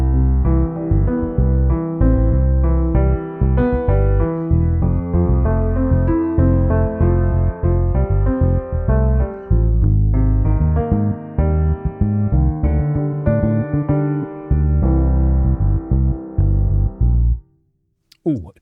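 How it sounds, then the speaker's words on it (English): Logic Pro session player bass following the chord track, a melodic bassline moving through the chord changes with the full arrangement, steady and loud for about seventeen seconds, ending on a leading note before cutting off. "The chord track is the thing that is determining what the bass player does"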